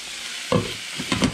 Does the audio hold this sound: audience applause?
no